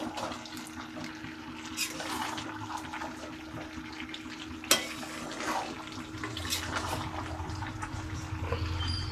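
Mutton curry sautés in a little oil, giving a steady low sizzle and bubbling hiss, with faint stirring scrapes and one sharp clack partway through, and no talking.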